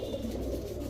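A pair of Gola pigeons at a pigeon sale coo softly and continuously, a low, muffled burbling close by with no talk over it.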